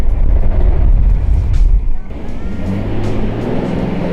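A BMW E46 project car drives off under heavy low engine rumble and wind buffeting, loud and close, with a steadier tone after about two seconds as voices talk over it.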